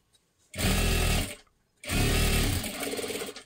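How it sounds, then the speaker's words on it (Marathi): A sewing machine stitches blouse fabric in two close, loud bursts of rapid whirring, with a short pause between them and no talk over the motor. "आता इथे आपल्याला ह्याच्यावरती अर्धा इंच घेतलं का आपण त्याच्यावरती बरोबर अशी शिलाई मारून घ्यायची।"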